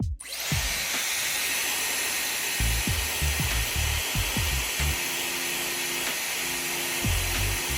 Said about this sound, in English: use a hairdryer to gently warm up the display surface